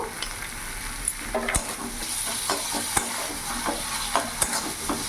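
Ginger, garlic and chili paste fries in a hot pan for an egg curry, giving a close steady sizzle with repeated sharp spatula scrapes and clinks against the metal.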